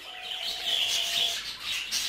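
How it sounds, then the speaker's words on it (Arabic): Budgerigars in breeding cages give a continuous bright chatter of chirps and warbles, fairly close and steady, with no talking. "وسوف تلاحظون أن التزاوج الطيور في هذه الأقفاص مريح جدا، ولا يحدث أي مشاكل مع الطيور الأخرى."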